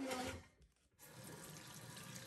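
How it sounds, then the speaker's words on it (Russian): Water running from a tap during hand laundry, a steady hiss that briefly drops off and then resumes as a continuous faint stream. "Воды."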